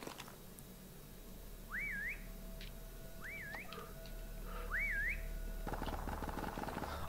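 Three rising-and-falling whistle calls sound out clearly during a Prop Hunt match in the MWR video game, each about half a second long and evenly spaced over a low steady game background, with a louder burst of noise near the end.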